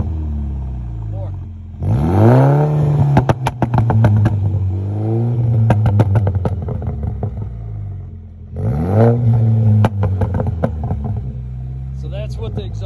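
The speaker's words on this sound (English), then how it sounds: "So that's what the exhaust sounds like." A car's aftermarket exhaust is revved hard in repeated bursts, rising and falling with loud rumbling, crackling peaks, then a pause and another strong rev near the microphone.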